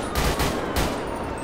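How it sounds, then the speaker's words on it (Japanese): Rapid gunfire in a police gunfight in GTA 5, with dense overlapping bursts under a constant loud background roar. "うわうわ、すげえ銃撃戦になってる。"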